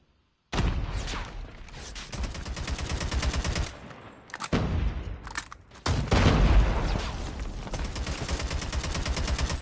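Rapid automatic gunfire from a Call of Duty Mobile match, loud and close in long sustained bursts separated by brief pauses.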